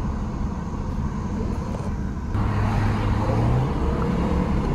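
Chevy car with a failing transmission that has no third gear, heard as a steady engine and road drone from inside the car, with a rising tone as it pulls through the gears.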